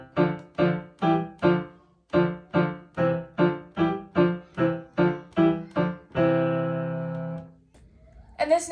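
A legato piano exercise is played as an evenly paced run of about sixteen connected notes, followed by a sustained chord that fades out. The playing is close and clear, and a brief sound comes at the very end.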